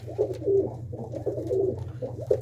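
High-flying pigeons in a loft give repeated cooing phrases, three or four rolling throaty bursts in quick succession, fairly close and clear with no talking.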